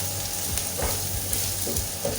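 Okra frying with spices in a pan over a low flame, a steady close sizzle with a few soft stirring scrapes and no talk.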